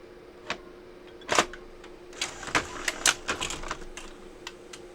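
A Sony BVW65P Betacam SP player takes in a large tape, producing a close series of mechanical clicks and clunks as spools and the loading mechanism shift, irregular and uneven over a faint steady hum.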